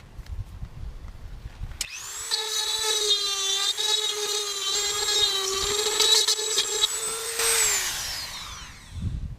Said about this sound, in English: The first tip I'm using on the Dremel is actually a diamond burr.